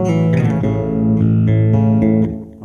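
A bass guitar plays the opening phrase of Silent Night as a slow sequence of sustained, resonant notes, alone and clear, the last note fading out.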